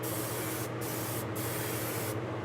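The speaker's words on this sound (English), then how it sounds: "just making sure that it sprays evenly" Airbrush or spray gun hissing paint onto a model locomotive, a loud steady spray broken by a few brief pauses.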